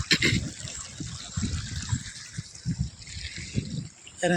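Irrigation water from a well, piped about half a kilometre, gushes steadily into a paddy field, a continuous close rush of flowing water with people talking over it.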